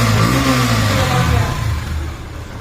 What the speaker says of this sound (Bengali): এবার আমরা অ্যাক্সিলেটার দিয়ে সাউন্ডটা শুনি।